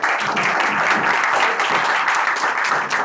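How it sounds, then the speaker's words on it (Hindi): A crowd in a hall breaks into steady applause, dense, loud and continuous throughout with no pause, faint voices buried underneath. "भाई अगर तालियां बजा दो अपने लिए खुद के लिए।"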